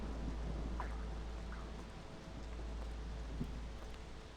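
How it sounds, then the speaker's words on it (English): Steady rain hisses with a low rumbling undertone of thunder in the fantasy settlement-building game Against the Storm, a quiet, even wash of storm sound with faint scattered clicks. "Oh, we got a storm."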